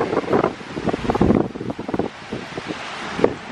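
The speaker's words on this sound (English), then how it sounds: "It's crazy windy out here." Strong wind buffets the microphone in loud, irregular gusts and rumbles, with no talking.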